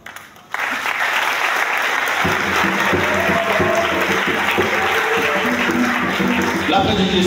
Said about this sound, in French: En guise de gratitude envers nos frères, prêtres, applaudissons pour eux.